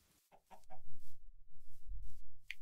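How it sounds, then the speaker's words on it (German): Minecraft chickens cluck in a handful of short, quiet bursts that come and go against a low background hum, with no talking over them. "Hühner!"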